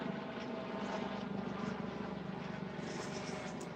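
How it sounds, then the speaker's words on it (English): A helicopter flies overhead at a police scene, its rotor making a steady, throbbing drone that holds fairly loud and even throughout, with no talking. "Now we have a helicopter overhead."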